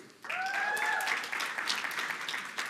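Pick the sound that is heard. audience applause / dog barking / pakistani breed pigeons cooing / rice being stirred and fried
audience applause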